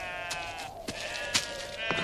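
Sheep bleating in a pastoral setting, several overlapping nasal calls close by with a harmonic, wavering tone, heard alone without speech.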